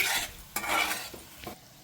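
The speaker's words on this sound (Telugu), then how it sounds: "ఇప్పుడు ఇవి చక్కగా కలుపుకొని," A spoon stirs a sizzling tempering of dried red chillies in hot oil in a pan, a steady frying hiss broken by a few scraping strokes against the metal, close and unaccompanied by voices.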